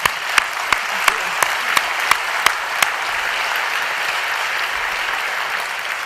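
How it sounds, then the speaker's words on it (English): A conference keynote audience applauds in a steady, full wash of clapping, with a few sharp, regular claps from one person standing out close by early on before blending into the crowd. "Let's give her a round of applause."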